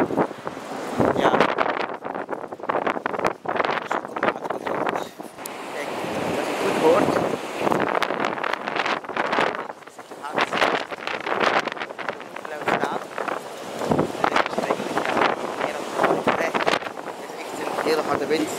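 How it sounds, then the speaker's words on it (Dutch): Very strong storm wind buffets and roars in gusts, loud and close, while cycling, with a voice talking intermittently beneath it. "hele harde wind. Dat is niet te doen."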